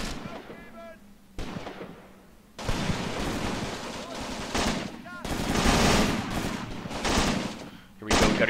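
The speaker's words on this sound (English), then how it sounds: "that's definitely some mortar fire incoming" Incoming mortar fire in the WWII tactics game Graviteam Tactics, with booming impacts and rolling bursts of gunfire layered over a constant battle din, loud and repeated.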